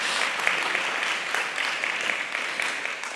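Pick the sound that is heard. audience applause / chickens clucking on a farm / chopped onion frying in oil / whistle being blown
audience applause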